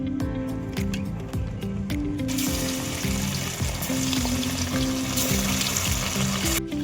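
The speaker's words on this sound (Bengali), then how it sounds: "প্রথমে আমি তেল দিয়ে নিলাম, মাছটা আমি এখন ভাইজা নিব" Fish shallow-frying in hot oil for a village-style jute mallow dish, a steady close sizzle and crackle that thickens and brightens partway through, with low harmonic hum beneath and no talk.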